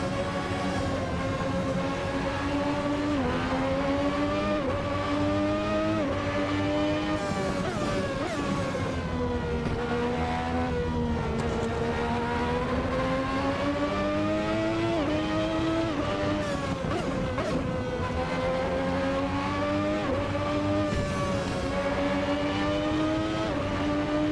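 A 3.5-liter V12 engine in a Ferrari 643 racing car drones steadily at idle and low revs while warming up, its pitch rising and falling gently as it runs without pause.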